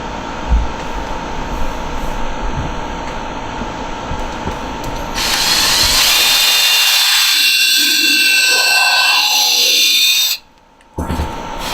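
A power drill bores a third hole through a wooden cigar box guitar neck: a loud, close, steady whirring grind runs for about five seconds, then cuts off abruptly, with no talking.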